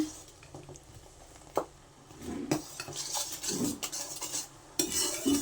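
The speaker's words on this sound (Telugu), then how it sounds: "ఇలా మొత్తం అయితే కలుపుకుంటూ బెల్లం అయితే ఇప్పుడు మొత్తం కరగబెట్టేసుకున్నాం అనమాట" Spoon stirring melted jaggery syrup in a metal pot for sesame laddus, close scraping and clinking against the pot with soft sticky squishes and a faint sizzle, irregular strokes.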